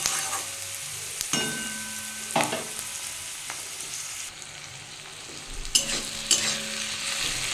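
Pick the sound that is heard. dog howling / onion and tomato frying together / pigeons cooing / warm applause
onion and tomato frying together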